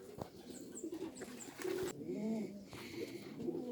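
Racing pigeons coo steadily at their loft, low soft calls repeating under faint chirps and outdoor background noise, with no talking.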